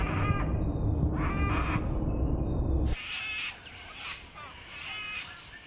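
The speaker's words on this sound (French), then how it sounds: "aux appels des oiseaux dans le ciel." Birds call in the open sky, with repeated bright, harmonic cries rising over a loud, wide rushing background, then calls that are thinner and more scattered over a quieter bed.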